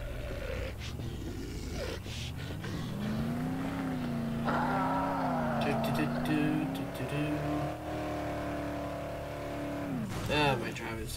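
A car engine in Dead Island hums steadily up close, rising and falling in pitch as it drives, with someone talking over it and a brief rough burst near the end.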